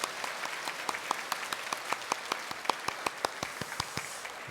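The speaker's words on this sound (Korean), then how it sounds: "우리 자신에게 또 우리 옆에 있는 어버이들에게 그동안 애썼다고 우리 격려 박수 한번" A church congregation applauds during a Sunday worship service, a scattered round of distinct hand claps at moderate distance, steady and unaccompanied by voices.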